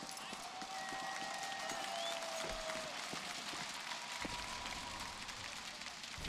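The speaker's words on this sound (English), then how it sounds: "A lot of fist bumps, a lot of cheering." Arena crowd at a CS:GO esports semi-final in Cologne's Lanxess Arena, a dense, steady wash of cheering and clapping that fills the whole stretch, with commentators talking over it.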